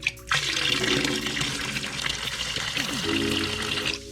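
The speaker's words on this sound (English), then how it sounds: "filling it with hot water" Hot water rushes into a bucket during reef tank maintenance, a close, continuous splashing fill that runs almost unbroken for a few seconds.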